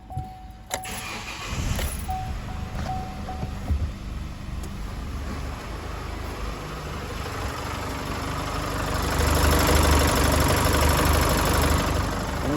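Chevrolet S engine with nearly 150,000 km and a suspected high-pressure fuel pump fault, running steadily with a mechanical ticking and knocking, growing louder toward the end as revs rise, with no talking.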